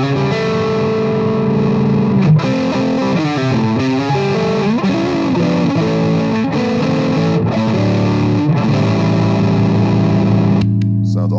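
Reverend Kyle Shutt signature model electric guitar played with the bass control rolled all the way off, giving a glassy, bright distorted tone in loud, sustained chords and riffs, with a brief pause near the end.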